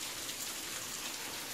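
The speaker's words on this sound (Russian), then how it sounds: "Это просто счастье, то, что дождь пошел." Rain falls steadily over a village as a downpour starts to die down, an even, moderate hiss of drops on surfaces without thunder or voices.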